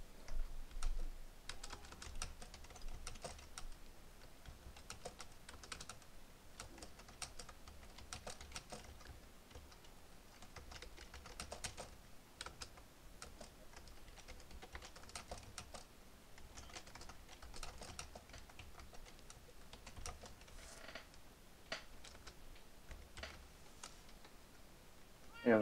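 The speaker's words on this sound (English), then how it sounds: "I'm typing." Computer keyboard typing: a long, quiet run of rapid key clicks with uneven rhythm and brief pauses, close to the microphone.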